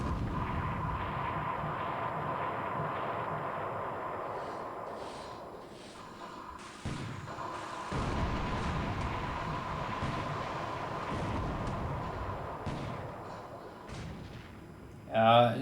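Naval gunfire in the War in the Pacific strategy game: a continuous, muffled rumble of distant artillery with sharper booms, moderately loud throughout.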